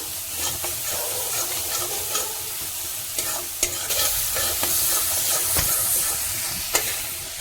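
Spice masala for a red lentil and egg tadka fries in a pan under a dense, loud hiss of sizzling, while a spoon scrapes and taps at irregular intervals close by.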